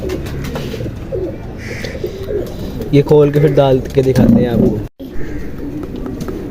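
Pigeons, including one sick with throat canker, coo in soft repeated throaty calls close by, mixed with someone talking over them.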